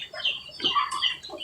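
Joper chickens on a small poultry farm cluck and squawk in a short, close burst of several overlapping calls, with no talk.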